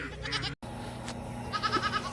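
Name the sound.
young goats (kids) bleating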